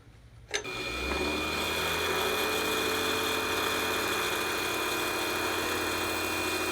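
A grinder on an antique Wood-Mizer sawmill blade sharpener switches on with a sharp click and spins up within a second, then holds a steady, loud motor whine with a humming undertone until the end.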